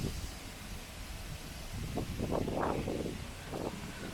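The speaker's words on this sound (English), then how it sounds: "A lot of wind." Gusty wind blows across the microphone near a rough sea in Greece, swelling and easing in rough bursts over a constant windy hiss.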